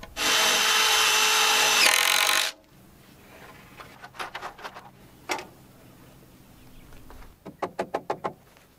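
A power drill drives 3.5-inch screws into a wooden truss. One loud, steady drilling burst lasts a couple of seconds, then quieter clicks, taps and a short rattling run follow.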